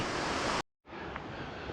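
A mountain waterfall on a hike in the Sangre de Cristo range of Colorado, near Challenger Point and Kit Carson Peak, gives off a steady, full rushing roar that drops out briefly and then returns.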